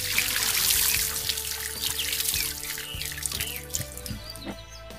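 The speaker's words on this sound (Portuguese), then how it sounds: "Vou jogar aqui mais ou menos 16, 15 litros de água." About 15 to 16 litres of water are poured onto a newly planted jabuticaba peluda de cruz seedling, giving a steady close splashing and trickling into soil with scattered drips, continuous for several seconds.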